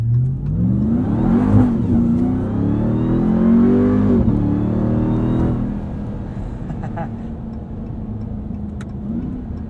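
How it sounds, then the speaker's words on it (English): A deep, throaty exhaust from a 2021 Ram 1500 TRX supercharged V8 pickup rumbles loudly as the engine revs up and settles, with a high supercharger whine riding above the roar. "There's a beautiful blend of supercharger whine and exhaust note out of the back."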